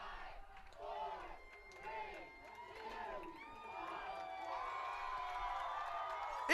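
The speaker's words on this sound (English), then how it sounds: "Listen to this crowd." A college men's soccer crowd at Case Western Reserve cheers and whoops in bursts as the match against Chicago ends, the roar swelling into a sustained, fairly distant wash of noise under a commentator's voice.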